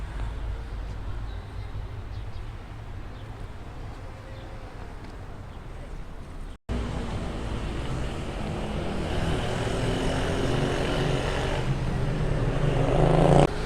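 A bus with open or missing windows drives through a city in Alanya, Türkiye, its engine and rushing road noise rumbling steadily, then turning louder and windier after a brief cut.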